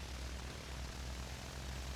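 A Cessna airplane taxiing on the ground, its steady propeller engine droning low and continuous throughout with a broad, even rumble and no pauses.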